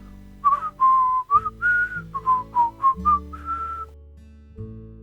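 A person whistles a short, bright tune in a string of clear, separate notes that rise and fall, each one distinct, over a soft low backing with no voices.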